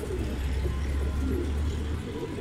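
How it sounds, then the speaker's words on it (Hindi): Desi pigeons in a loft coo softly and continuously under a low hum of background noise, with no voices. "सारे देसी कबूतर हैं"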